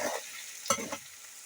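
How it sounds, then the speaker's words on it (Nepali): Potatoes frying in a pan with fenugreek greens: a brief soft sizzle with a couple of quick stirring scrapes, faint and close. "आलु चाहिँ भुट्टा हालिदिन्छु"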